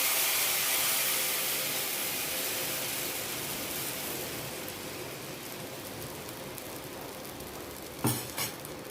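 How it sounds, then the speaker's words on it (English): Tamarind pulp poured into a hot pan gives a broad, steady hiss that slowly fades, ending with a couple of sharp clinks of a utensil against the pan. "Now slowly add"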